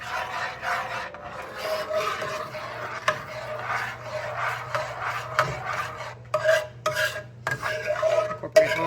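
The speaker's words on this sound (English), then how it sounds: "Stir that in." A spoon stirs vanilla into a pie filling mixture in a bowl, giving close, repeated rasping scrapes in an uneven rhythm, with sharper clinks toward the end.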